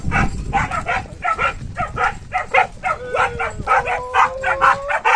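Dogs bark steadily and repeatedly on a farm, several overlapping voices yapping in a continuous rhythmic stream at close range.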